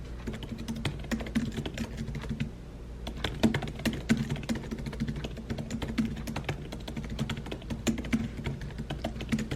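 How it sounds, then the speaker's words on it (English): Rapid, irregular keystrokes clatter on a computer keyboard while a blog post is written, close and fairly loud, with a short pause early on and no talking. "So now I need to actually go through and start typing."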